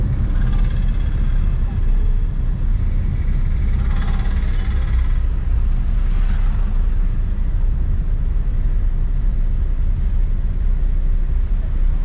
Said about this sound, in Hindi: ट्रैफिक देखो।